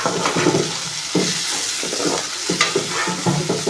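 Curry leaves dropped into hot oil while cooking a cauliflower and potato dish: dense, continuous crackling sizzle with sharp spitting bursts and stirring scrapes, close and loud, no voices.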